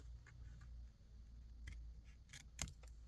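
Scissors snip a paper journal tag at a desk, a few quiet, crisp cuts and small clicks with no talking.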